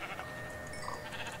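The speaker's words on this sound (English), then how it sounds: "Oh my gosh, it's two sheep." Two sheep bleat in the video game Minecraft, quiet wavering animal calls over a soft background hum.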